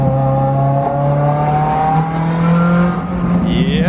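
A straight-piped Ferrari F355 engine revs hard while driving, a loud, close, sustained howl whose pitch climbs and holds, then rises sharply at the end.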